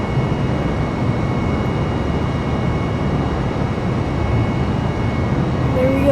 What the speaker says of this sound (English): That beautiful takeoff of this Airbus.